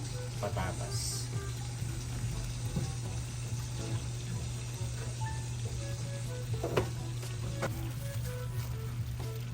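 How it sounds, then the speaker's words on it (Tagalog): Fried carrots and potatoes go into a simmering chicken curry, giving a steady low bubbling and sizzling with scattered small splashes and clinks over a constant hum. "ilalagay na po natin yung ating piniritong carrots at saka po patatas"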